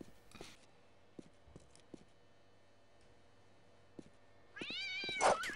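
A cat in a survival video game lets out a short, rising meow near the end, after quiet seconds broken only by faint ticks and soft steps.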